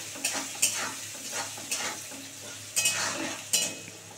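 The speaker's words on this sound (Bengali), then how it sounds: "এই যে পনিরটা একটু সুন্দর করে ভেজে নেব" Paneer fries in a pan with Kashmiri red chilli, making a soft, close sizzle. Several distinct scrapes and clinks of a spatula turning the pieces stand out, spaced a second or so apart, with no talking.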